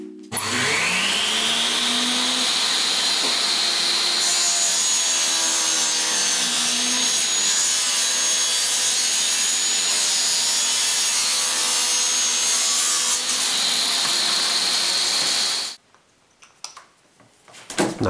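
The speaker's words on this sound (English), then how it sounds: "Now I chamfer the inside corners." Close, loud power-tool whine with a wood-cutting rasp as the inside corners of a wooden soundboard for a homemade positive pipe organ are chamfered, one steady run of about 15 seconds, then it cuts off.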